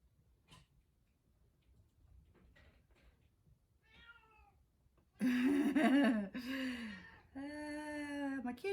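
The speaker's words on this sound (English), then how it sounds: "My kitty's name is Gypsy, and she is determined to get some attention" A cat named Gypsy meows repeatedly for attention, faint chirps at first, then several loud close drawn-out meows, with soft ticking in a quiet room.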